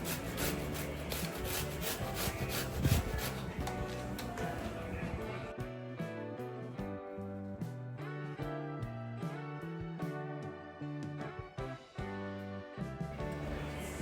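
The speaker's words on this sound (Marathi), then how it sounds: "आणि आता हा छानपैकी आपल्याला किसायचा आहे" Peeled bottle gourd is rubbed over a medium kitchen grater in quick, rhythmic rasping strokes, heard under steady background music.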